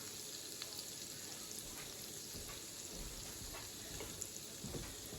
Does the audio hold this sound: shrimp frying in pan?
yes